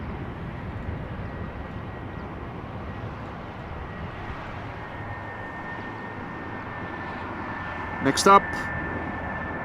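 A Croatia Airlines Airbus A320, inbound from Zagreb, arrives at Amsterdam Schiphol with a steady, broad engine roar. A brief spoken voice comes in near the end.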